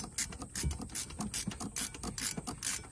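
A hand ratchet clicks steadily while tightening the bolt on a car's oil dipstick tube, a quick rhythmic series of close metallic pawl clicks with no talking.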